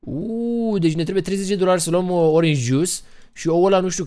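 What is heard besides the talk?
None of the usual background noises is heard.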